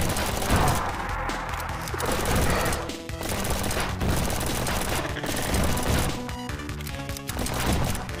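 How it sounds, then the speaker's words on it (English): Assault rifle gunfire in the Zomb Bomb video game, loud rapid bursts of shots repeating in waves with crashing impacts and game music underneath. "Assault rifle."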